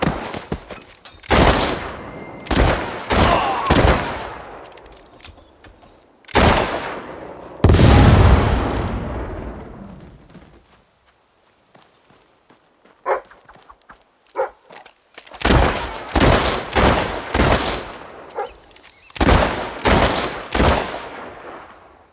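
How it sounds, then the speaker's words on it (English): Loud gunshots ring out in a Fable 3 battle, fired in irregular single blasts and short volleys with booming echoes, broken by a quiet lull before a dense final string of shots. "Shooting will kill you, you know."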